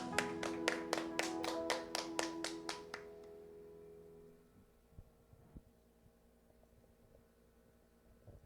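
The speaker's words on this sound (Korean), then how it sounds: "하나님 아버지께 영광의 박수 올려드립시다" Rhythmic group clapping in a church worship service, about a dozen steady claps close together over a droning hum, then fading out to quiet room tone.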